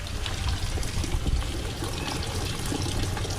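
Bubbling water in a home fish room aquarium, a steady dense gurgle and trickle from an air stone running continuously and close, with no voices.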